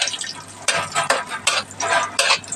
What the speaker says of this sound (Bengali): কাজু আর কিশমিশটাকে একটু ভেজে নেব।